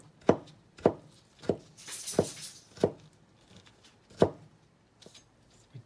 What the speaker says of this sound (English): now we're going to do all the tedious chopping